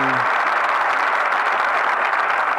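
Applause sample played back through an OP-XY synthesizer, a steady dense wash of clapping that runs unbroken and fairly loud from start to finish, with a brief low tone at the very start.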